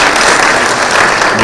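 A crowd at a Kenyan political gathering applauds loudly, a dense, even wash of clapping that holds for the whole moment.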